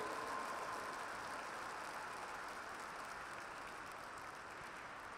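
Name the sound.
audience applause at show jumping event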